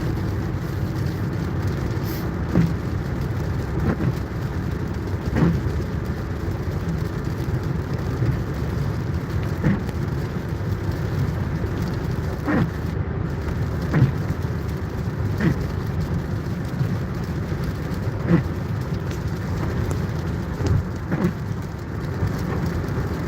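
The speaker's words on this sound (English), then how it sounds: "it's not really the best to be on the highway when it's raining" Rain falls steadily and evenly during a highway drive, a continuous close wash of drops with occasional faint sharper ticks and no voices.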